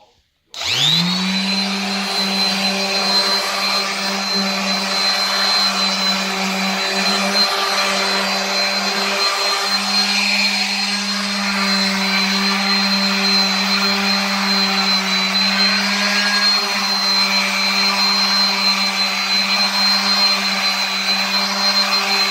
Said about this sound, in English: The sander pulls off some of the paint from the edge.